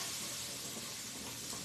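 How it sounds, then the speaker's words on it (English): Sweet potatoes sauteing in a pan give off a steady, soft sizzle, a continuous faint hiss of frying with no pauses and no voices. "Our sweet potatoes are still sauteing."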